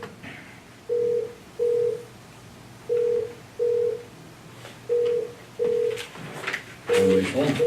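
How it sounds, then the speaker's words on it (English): An office telephone dials a four-digit extension in hands-free mode, giving a series of evenly spaced tones with short gaps between them and faint room noise, followed by the start of a ring or connection. "if you just dial 1102, you don't have to pick the phone up"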